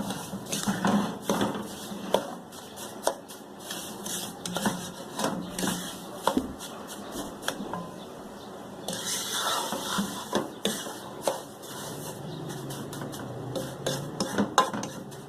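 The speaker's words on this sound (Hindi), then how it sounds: "अच्छा सा मिक्स कर ले और इसको हम 1 से 2 मिनट अभी भून लेंगे" Semolina being stirred and roasted in ghee in a pan for sooji halwa: a spoon scrapes and clinks against the pan in repeated irregular strokes, close and moderately loud, with no talking.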